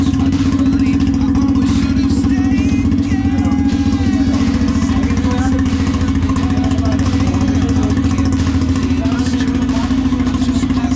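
An unmodified Honda XR 250R Paris Dakar motorcycle engine runs steadily and loudly at close range with a constant low throb, holding an even idle for the whole stretch.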